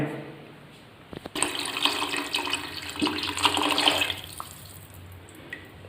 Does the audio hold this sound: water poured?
yes